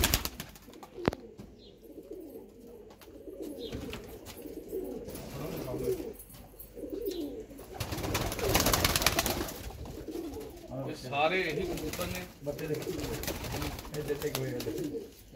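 A loft full of paired pigeons in Wolverhampton gives off repeated low cooing over constant flock murmur, with a louder swell partway through and voices faintly in the mix.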